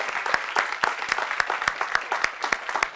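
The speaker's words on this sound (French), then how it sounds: "Je pense qu'on peut les applaudir encore une fois." A small audience at a lighting-practices talk claps for the speakers, with distinct sharp individual claps in an uneven, sparse rhythm, fairly close and clear, with no voices.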